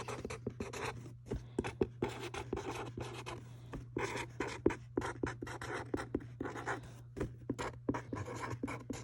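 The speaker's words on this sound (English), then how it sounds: "I'm going to write, you can write the topic or the main idea" Marker or chalk writing the main idea on a classroom board, a busy run of close scratchy strokes and taps over a steady low hum, without speech.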